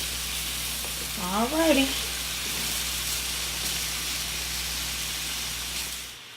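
Cheesesteak meat and vegetables cooking with hot butter, a steady broad sizzle and hiss throughout, with a short spoken word near the start.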